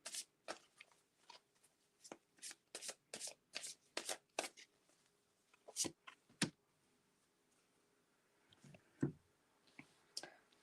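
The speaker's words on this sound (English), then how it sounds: "Celina's still shuffling" A deck of tarot cards shuffled by hand, a quick run of sharp riffling clicks and flicks in bursts, then sparser taps and slides toward the end, close and fairly quiet.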